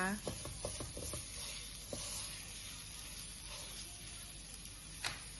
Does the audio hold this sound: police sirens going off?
no